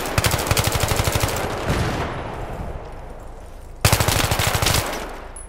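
Rapid automatic gunfire in the video game Battlefield 3, two loud close bursts of machine-gun shots separated by a quieter gap with fading echoes.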